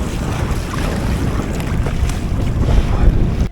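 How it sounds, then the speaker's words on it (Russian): Strong headwind buffets the microphone on a kayak leaving a harbour, with waves splashing and churning around the boat in a loud, continuous roar that swells toward the end. "У выхода из гавани меня встретили волны и сильный встречный ветер, скорость которого достигала 8 метров в секунду."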